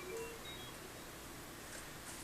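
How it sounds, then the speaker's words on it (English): A toy space station's control panel gives off a quick run of faint electronic beeps near the start, then a low steady hiss with a few soft chirps. "it just makes a bunch of beeping noises."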